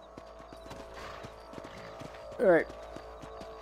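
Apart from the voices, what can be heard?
horse hooves clopping in Red Dead Redemption video game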